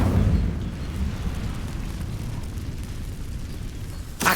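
An Incendio fire spell cast in Hogwarts Legacy erupts in a loud whooshing burst that fades into a roaring rumble, with a sharp pop at the end, no voices.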